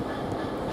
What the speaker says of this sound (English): Now we've got a freight train coming in.